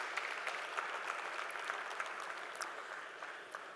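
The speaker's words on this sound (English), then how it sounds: "Can I have a strong round of applause for Mr. Jitendra, please?" A conference audience applauds steadily for several seconds, a dense patter of many hands clapping at moderate distance that holds fairly even before easing slightly toward the end.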